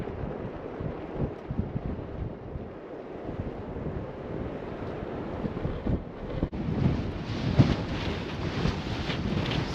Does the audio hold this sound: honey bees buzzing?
no